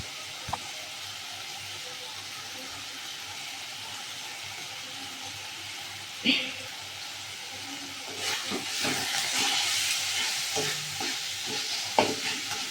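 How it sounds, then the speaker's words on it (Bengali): Spice paste is sautéed in a pan. The first half is quiet with a single sharp clink, then a loud, close sizzle and hiss swell up with scraping stirs and occasional knocks against the pan. "মশলাটা আমি ভালো করে কষিয়ে নিলাম।"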